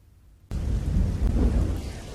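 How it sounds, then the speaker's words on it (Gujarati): Rain falls in Navsari, Gujarat, a steady broadband hiss and patter that starts abruptly after a brief quiet moment and continues loud and unbroken. "હાલ વ્યારા સહિત મોટાભાગના વિસ્તારોમાં ધીમી ધારે વરસાદ વરસી રહ્યો છે"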